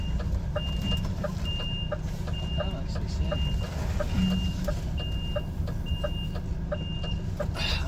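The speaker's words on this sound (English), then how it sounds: "there's a truck trying to reverse out there" A truck's reversing alarm beeps steadily and rhythmically in the distance, a regular series of high tones over the low rumble of an idling engine nearby.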